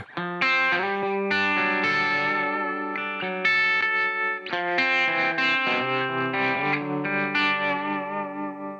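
A clean electric guitar through a Two-Rock amp with pedals plays a steady run of strummed chords and picked notes, close and full, with light modulation and echo coloring the tone.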